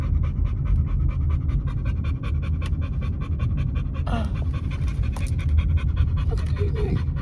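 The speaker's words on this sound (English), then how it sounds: "Look at all these dogs." Several dogs pant rapidly and steadily close to the microphone, a continuous breathy rhythm with no talking.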